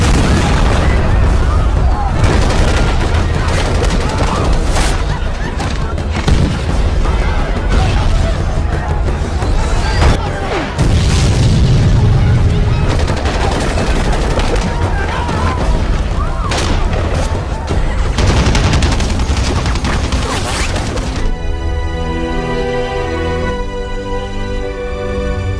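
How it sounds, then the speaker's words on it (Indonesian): Explosions and gunfire from a film attack on a village, with heavy booms and bursts of shots that keep going, loud and dense, mixed with voices and dramatic score. "dentuman ledakan mengguncang desa"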